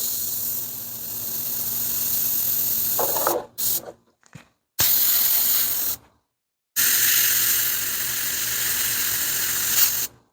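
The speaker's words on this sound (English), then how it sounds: "I think we're going to crank this airbrush up a little bit." An airbrush sprays paint onto a Tichy model train kit, a steady close hiss broken by several abrupt stops and restarts, with a faint sputter partway through.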